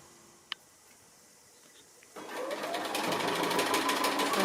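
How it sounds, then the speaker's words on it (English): A sewing machine stitches the frame onto a quilt block, starting after a quiet pause and a single click, then running in a close, steady, busy whir until the end. "I'm just sewing the last side of the frame on."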